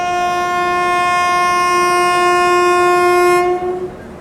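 A train passes through Rajendra Nagar station near Patna without stopping, its horn blaring loud and close in one long steady blast for about three and a half seconds before it cuts off into a lower rumble.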